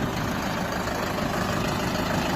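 A four-wheel-drive tractor creeping backward off a flatbed truck on a rainy day, its engine giving a steady, close, mid-low rumble wrapped in dense, hissing noise throughout.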